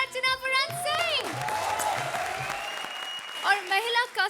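A studio audience on a Hindi TV comedy show applauds, the clapping running beneath music and an announcer's voice throughout.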